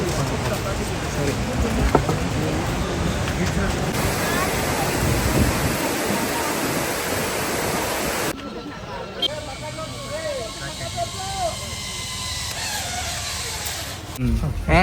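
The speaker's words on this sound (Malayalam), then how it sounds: "വെള്ളച്ചാട്ടത്തിന്റെ സൗണ്ട് നമ്മൾ കേൾക്കുന്നുണ്ട്" Abbey Falls in Coorg gives off a steady broadband roar of falling water, loud at first, then softer and more distant, with people talking over it.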